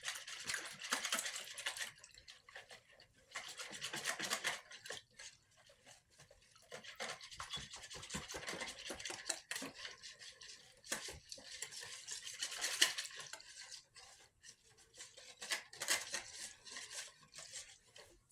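A whisk clicks and swishes through water with yeast and honey in a bowl in quick bursts, with brief pauses between the rounds of stirring.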